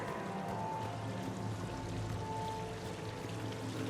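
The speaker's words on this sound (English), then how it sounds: "Please do not touch the waterfall." Waterfall in the Mass Effect 3 Citadel casino area, heard as a steady, dense wash of splashing water that holds at an even loudness throughout, with no voices over it.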